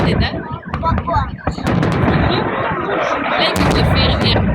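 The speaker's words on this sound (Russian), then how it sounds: "Глянь, какой фейерверк" Victory Day fireworks salute over Voronezh, watched near a bridge: loud, dense booms and crackling bursts roll on continuously while people nearby talk and call out.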